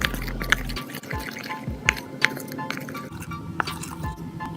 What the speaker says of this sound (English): you're going to take some salt and put little bits at a time into the soap. Then start to mix.